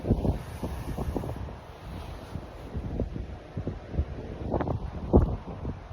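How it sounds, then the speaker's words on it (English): Heavy wind buffeting a microphone, a steady low rumble with gusty swells throughout and no voice. "sorry if it's a bit windy and you can't hear me"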